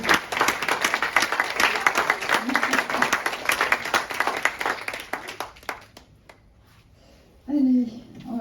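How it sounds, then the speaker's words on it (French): A live audience at a talk by a medium breaks into dense, sustained applause for about six seconds, loud and close, before it tapers off and a voice speaks briefly. "on peut l'applaudir"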